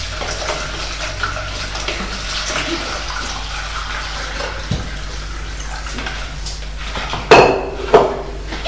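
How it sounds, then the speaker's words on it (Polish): A litre of lukewarm boiled water pours onto dissolved yeast for bread dough, a steady soft splashing flow with a couple of sharp clinks of a vessel near the end. "do tak rozpuszczonych drożdży wlewamy litr letniej przegotowanej wody."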